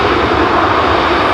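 An Airbus A320 with IAE engines lands at London Heathrow using full thrust reverse, producing a loud, steady, close roar of engine noise with no speech.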